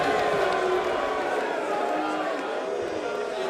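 A darts arena crowd reacts to Michael Smith's 180 at the Dutch Darts Championship final, a steady, dense roar of mixed cheering and murmuring that carries on without a break.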